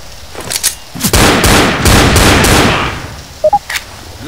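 Gunfire from the video game Left 4 Dead, a loud rapid burst of shots with rattling echoes lasting a couple of seconds, framed by a few single sharp shots and brief clicks before and after.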